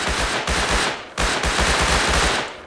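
Rapid automatic gunfire in the survival game Rust, dense loud bursts of repeated shots with a brief pause near the middle before firing resumes.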